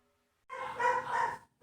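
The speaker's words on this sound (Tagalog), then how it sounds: "Pasensya na kayo sa tahol ng mga aso." Dogs barking near a house, a single short muffled burst of barking about a second long after silence, moderately faint.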